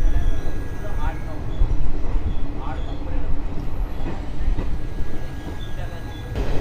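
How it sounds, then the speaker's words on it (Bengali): The 18044 Bagha Jatin Express pulls out of Uluberia station with a steady, loud rumble and rhythmic wheel clatter heard from inside the coach, with a voice talking over it. "আমাদের ট্রেন ছেড়ে দিল উলুবেড়িয়া স্টেশন, পরবর্তী সাঁতরাগাছি জংশন।"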